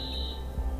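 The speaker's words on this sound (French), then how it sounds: "L'alarme s'est déclenchée." A security alarm sounds in the video game Watch Dogs, a steady high electronic tone holding over low game ambience, then cutting off as a low thump comes in near the end.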